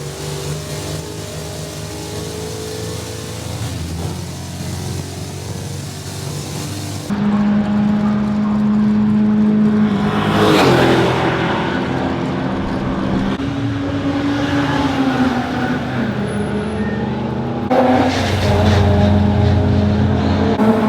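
Onboard a race car lapping a circuit with Paddock, Druid, Graham Hill and Surtees corners, fighting understeer; loud, steady engine drone rising and falling through gear changes and corners, with no talking.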